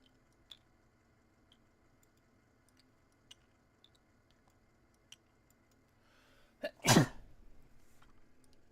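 A single sharp sneeze bursts out near the end during a Warhammer 40k 10th edition tabletop game, loud and close after a quiet stretch with faint clicks.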